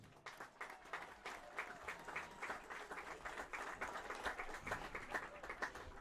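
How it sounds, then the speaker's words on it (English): A crowd applauds alumni seated in the bleachers at a high school football game between Port Allegany and Brockway; the clapping is steady, dense and fairly faint, as if heard from a distance across the stands. "Let's give those alumni a round of applause."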